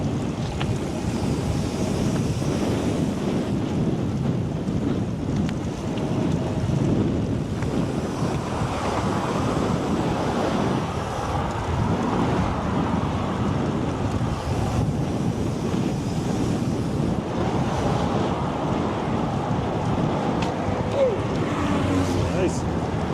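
Strong headwind roars steadily across the mic while an e-bike towing a solar trailer rides along, a dense continuous rush with no letup, loud and close, and faint talk now and then beneath it.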